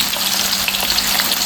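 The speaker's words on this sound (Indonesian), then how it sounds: "terus kita goreng" Tofu frying in hot oil during stir-fried tofu and tempeh cooking, a loud dense crackling sizzle held steady throughout, with no one talking.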